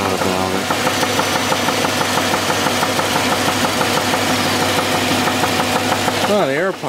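A car engine with a knocking connecting rod idles close by, a steady rapid metallic knock over the motor's drone, loud and continuous before a brief revving swell at the end.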